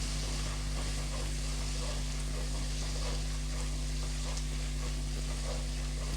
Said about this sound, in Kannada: ಹಸಿಮೆಣಸಿನ್ಕಾಯಿ ಮತ್ತು ಕೊತ್ತಂಬರಿ ಸೊಪ್ಪದು ಹಸಿ ವಾಸನೆ ಹೋಗೋವರೆಗೂ ಚೆನ್ನಾಗಿ ಫ್ರೈ ಮಾಡ್ಕೊಬೇಕು